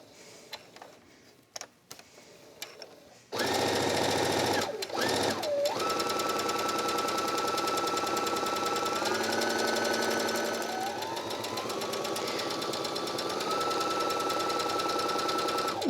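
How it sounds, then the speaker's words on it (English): A sewing machine runs steadily around a fabric circle for a makeup bag, its close, even mechanical whir lasting over twelve seconds after a few soft handling clicks. "I'm just going to kind of use the edge of the presser foot as my guide and sew all the way around the circle"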